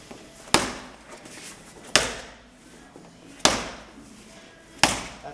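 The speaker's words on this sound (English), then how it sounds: "She comes to the ball for 10 ball slams." A medicine ball slams down during a police physical fitness test, giving four sharp, loud impacts spaced roughly a second and a half apart, each with a quick decay.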